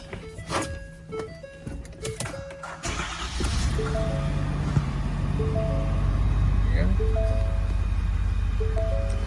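A truck engine with a PTO-driven generator starts after a few thunks and door sounds, then settles into a steady, loud running rumble that builds slightly, with intermittent beeping tones over it.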